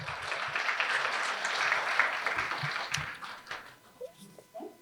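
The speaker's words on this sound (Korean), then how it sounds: "다시 한번 뜨거운 박수 부탁드리겠습니다" Audience applause at a residents' briefing session in Seoul fills the first few seconds as steady dense clapping, then thins out into scattered claps and faint room noise.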